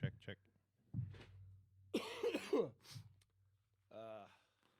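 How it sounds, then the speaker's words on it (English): A person coughs several times in short, harsh bursts scattered across the moment, close and dry, with breathy sighs and throat sounds between them. "I have, like, the world's worst cough"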